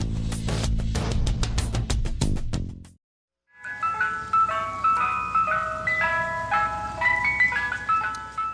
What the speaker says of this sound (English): The ice cream truck. For many of us, it was game on when we heard that sound.